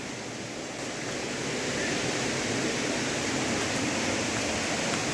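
Chamadka waterfall pours in a steady, dense broadband rush of falling water, continuous and unbroken with no voices.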